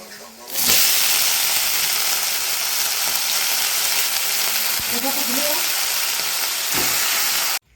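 Potatoes for aloo chorchori frying in a pan give a loud, steady sizzle and hiss close up, with a few clinks and soft stirring sounds along the way.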